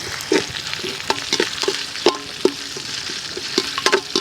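Whole spices such as cinnamon bark crackling in hot oil for a village-style semiya chicken biryani, a bright sizzle broken by repeated sharp pops and spatula scrapes, close and steady.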